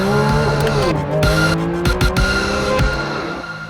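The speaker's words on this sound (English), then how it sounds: "this makes it the best handling 911 road car ever on a racetrack" A Porsche 911 GT3 RS on a racetrack: loud engine drone with shifting pitch, tires squealing and skidding through corners, with sharp clicks and thumps as the car is pushed hard.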